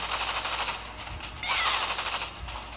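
A gunner hero firing in the mobile action RPG Heroes of Skyrealm, with rapid, dense automatic gunshots that rattle steadily for a few seconds and surge louder partway through.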